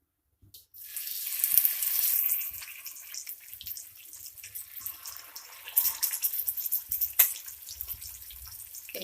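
Marinated fish going into hot mustard oil, setting off a loud, close, hissing sizzle that rises sharply and then carries on steadily with crackling pops, with no voices.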